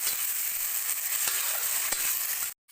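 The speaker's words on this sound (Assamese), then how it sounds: "আৰু এতিয়া এইখিনি কোমল হোৱালৈ মই ভাজি থাকিম।" Chopped tomato frying in a pan until soft, a steady close hiss of sizzling oil with occasional soft stirring clicks, cutting off abruptly near the end.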